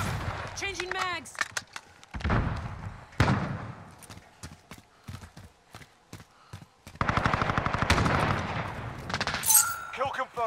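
Gunfire in Call of Duty: Modern Warfare's Kill Confirmed mode on the St Petrograd map: scattered sharp shots, then a dense, loud run of rapid automatic fire near the end, with voices between bursts.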